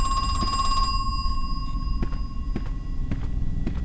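In the horror video game Crow Country, a telephone in a save room rings with a bright, sustained electronic tone that cuts off after about a second, followed by faint periodic clicks over a low ambient hum.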